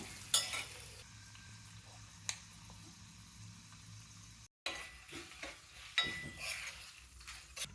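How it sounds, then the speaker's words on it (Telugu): Curry leaves and dals crackle and sizzle in hot oil until golden brown for a tomato-cucumber chutney tempering, with sharp pops and the clink of a spoon stirring against the pan, close by. "తాలింపుని వేయించుకున్నాం"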